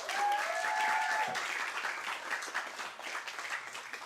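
An audience at an Astronomy on Tap evening event in Seattle applauds its speakers with steady, dense clapping that stays loud for about four seconds, with a few faint voices mixed in.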